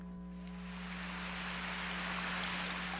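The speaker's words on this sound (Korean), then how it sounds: "비는 아직도 내리고 있었는데 눈에 보일 만큼 굵직한 빗방울이 후두두 땅 위에 떨어지고 있었다" Heavy raindrops pour down onto the ground in a steady, dense patter that swells slightly over a few seconds, with a low constant hum running underneath.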